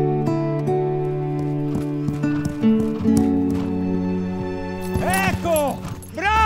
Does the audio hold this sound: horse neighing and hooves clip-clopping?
yes